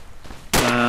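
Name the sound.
gunfire in a video game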